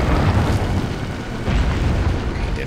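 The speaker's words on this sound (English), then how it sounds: "Let's see what a grenade does to him." A grenade goes off in Resident Evil 4, a loud, close, deep booming blast that rumbles on for a couple of seconds, with no clear separate hits.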